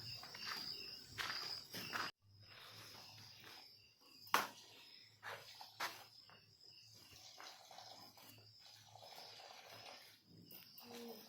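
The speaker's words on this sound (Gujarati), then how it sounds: "આ બાજુ તમરા બોલે છે." Crickets chirp steadily at a farm in the dark of night, a thin continuous trill at moderate distance, broken by a few nearby footsteps and soft thuds.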